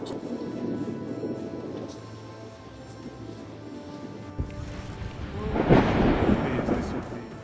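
Thunder from a night lightning storm over Brighton rolls as a low, rumbling roar, building to a loud crack and boom in the latter half before fading.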